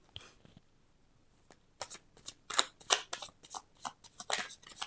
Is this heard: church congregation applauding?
no